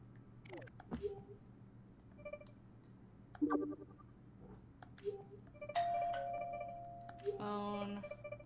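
Phone dialing in The Sims Bustin' Out, a scattered series of short electronic beeps and tones with quiet game sounds between them.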